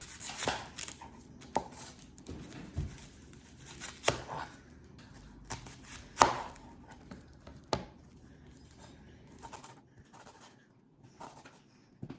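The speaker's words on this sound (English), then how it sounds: "Now we're gonna dice 1 yellow onion." A knife dices a yellow onion on a cutting board, a run of quick, close, sharp chops in irregular bursts with short pauses between them and no talking.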